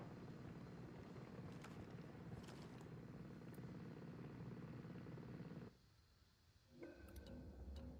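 Helicopter in the Ghost Recon video game: a steady, loud rotor drone fills most of the span, then drops away abruptly near the end before a brief return.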